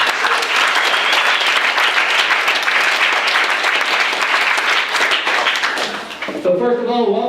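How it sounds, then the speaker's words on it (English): An audience at the Ultra Race of Champions panel event in Colorado claps in a dense, sustained round of applause that fills the room, then fades as a voice starts speaking at the end. "big round of applause for everybody being here."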